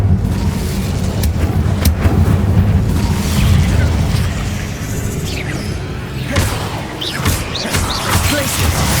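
Incendio fire spell cast in Hogwarts Legacy, a loud blazing burst with booming crackles and sharp impacts over a dense, continuous rumble of game action and music.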